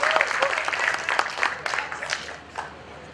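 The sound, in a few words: audience applause for arriving students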